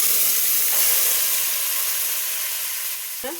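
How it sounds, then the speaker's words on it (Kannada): Curry leaves and greens fry hard in hot oil in a pan, a loud continuous hiss that slowly eases, ending with a sharp clank of a utensil. "ಚೆನ್ನಾಗಿ ಫ್ರೈ ಮಾಡ್ಕೊಳ್ಳೋಣ. ಸ್ವಲ್ಪ ಎಣ್ಣೆದು ಹುರ್ಕೊಳ್ಳೋಣ ಇದನ್ನು."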